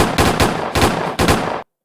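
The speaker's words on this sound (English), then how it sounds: "the gunshots are not sufficient" Rapid bursts of gunshots from a sound effect played on a podcast, three loud clusters of quick repeated shots in close succession, then abrupt silence.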